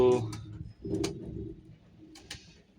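Pigeons coo in a pigeon loft, a few low, soft murmuring calls close by with brief bird chirps between them, fairly quiet over about three seconds.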